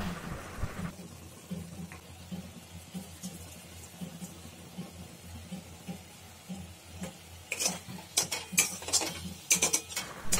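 Kochur loti mixture stirred in a kadai with turmeric and salt, giving soft continuous scraping and shuffling that turns into sharper, quicker clinks and scrapes of the spoon against the pan near the end.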